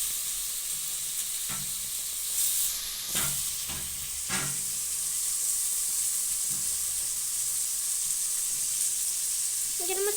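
Country chicken for biryani sizzles steadily in hot oil in a pan, a continuous bright hiss broken by a few clinks and scrapes of stirring.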